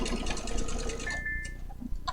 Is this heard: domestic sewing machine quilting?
yes